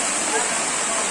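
Mukhipata waterfall in Kalahandi district, water dropping about 300 feet, gives a steady dense rushing roar that fills the air without a break.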